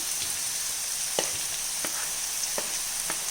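Chopped onions and green chillies sautéing in a pan, a soft continuous sizzle with a few sharp spatula scrapes spaced through it, close but fairly quiet with no voices.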